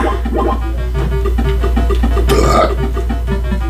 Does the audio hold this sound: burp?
yes